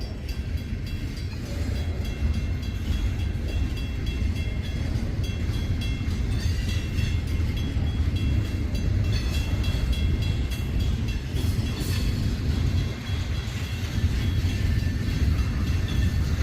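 A train rolling past near Grafton, Spencer and Wellington, Ohio: a loud, steady, continuous rumble of railcars with rail noise, sustained throughout with no talking.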